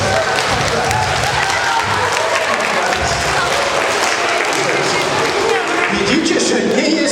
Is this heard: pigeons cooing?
no